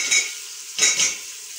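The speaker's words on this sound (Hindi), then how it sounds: "आयल हो गया है गरम, तो अब इसमें डालती हूँ प्याज" Chopped onion dropped into hot oil in a pan in a village kitchen, with two brief bursts of bright sizzling and stirring scrapes, close and fairly loud, fading to a soft hiss in between.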